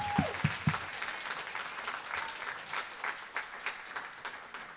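A church congregation applauds and cheers, steady clapping rolling on for several seconds after a short sung or called-out note at the start.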